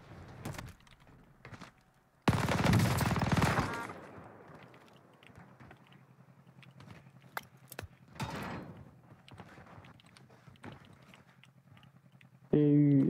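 Video-game gunfire during an aggressive online shooter match: a short, loud burst of shots stands out among faint clicks and mechanical clatter, with talk in the background.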